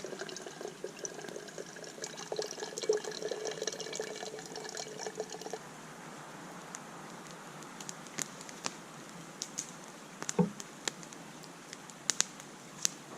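Steady trickling and pouring of mountain stream water through a filter, with scattered clicks and small drips, close by and fairly quiet, no voices.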